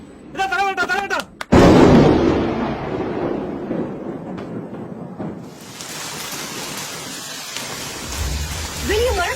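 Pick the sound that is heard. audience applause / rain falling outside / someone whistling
rain falling outside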